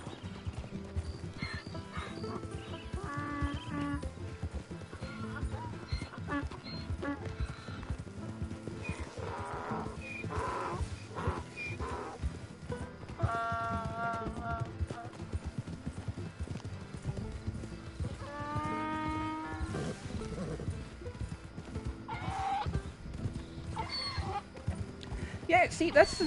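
Horse hooves clip-clopping in steady rhythm with occasional whinnies in the Red Dead Redemption II video game, heard under near-constant conversation and a background score.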